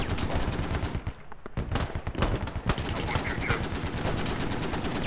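Gunfire in the military shooter game Squad on the Al Basrah airport map, dense rapid automatic bursts and single shots cracking loudly and almost nonstop, with faint voice chat underneath.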